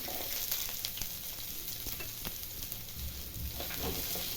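Onion, ginger and garlic frying in oil in a pan make a steady, close sizzle with occasional light stirring scrapes and a low rumble near the end, with no talking.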